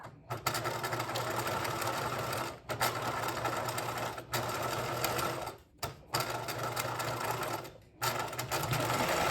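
A sewing machine stitches bias binding onto a backpack, running steadily and close in several bursts separated by short pauses.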